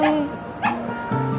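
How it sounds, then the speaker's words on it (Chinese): A small puppy gives three short, high yips in quick succession, close and fairly loud, with little else around. "送你一只小土狗"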